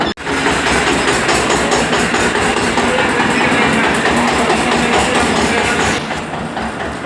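A tractor engine drones loud and close on the drive home after a match, a dense, steady rumble that holds without a break for about six seconds before easing slightly at the end.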